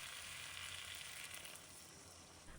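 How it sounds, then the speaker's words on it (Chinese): Water poured into a hot wok of pickled cabbage and duck gives a steady, broad sizzle and hiss at low level, with no voices. "把酸菜也倒进去，再翻炒一下。 然后再倒入开水"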